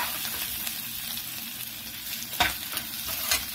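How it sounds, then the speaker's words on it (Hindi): Onion frying on high heat for upma, a continuous close sizzle with stirring scrapes and a couple of sharper knocks of the spoon against the pan near the end. "तो ये ऑनियन फ्राई हो रहा है जैसा आप देख सकते हैं"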